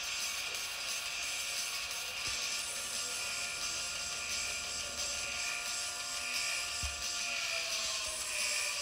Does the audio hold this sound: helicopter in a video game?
yes